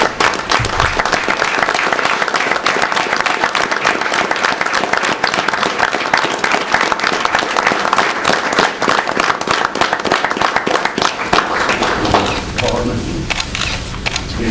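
A standing audience at a county meeting gives sustained, loud applause approving a resolution, a dense continuous clapping that runs for many seconds before tapering off near the end.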